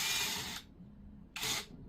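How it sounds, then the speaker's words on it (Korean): Electric power drill driving a fastener to tighten a film band on an angle-valve metal heater install, with two bursts of whirring, one long and one short, separated by a pause of quiet handling noise. "자, 그럼 이제 전동 드릴이 필요하겠죠?"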